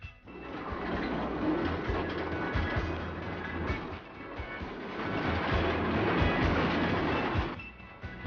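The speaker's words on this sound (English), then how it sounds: "visitors can take a ride on a miniature railway, which regularly makes trips around the perimeter" Miniature railway train, a three-quarter-scale replica of an early Queensland train, running on its track: a moderately close, continuous rumble with rhythmic clattering of wheels over rail joints, rising and easing slightly as it passes.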